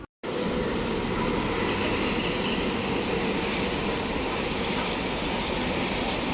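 The Kovai Express rolls toward the platform with a loud, steady rumble and hiss of wheels and engine that begins abruptly and holds constant, close by, with no voices.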